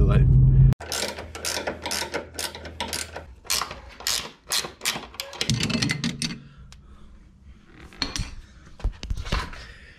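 A hand ratchet clicks in quick bursts while new sway bar bolts are tightened on an E36 BMW M3, with close metallic ratcheting and tool clinks through most of the clip and a short hum at the start.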